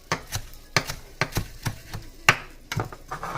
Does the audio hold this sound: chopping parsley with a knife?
yes